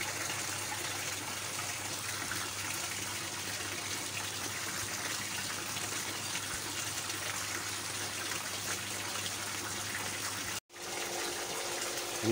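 Water from a koi egg tank drains in a steady, continuous gushing rush, close and even throughout, briefly cutting out near the end before resuming.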